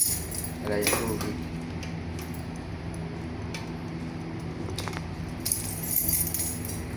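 Keys jingle and clink close by, a brief rattle early then scattered metallic chinks over a steady background hum.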